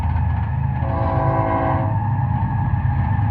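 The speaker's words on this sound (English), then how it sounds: "You can hear the train going by." A train passing by out in the middle of the desert, a steady loud rumble of rolling wagons with a tonal horn-like whine swelling and fading midway, no talk.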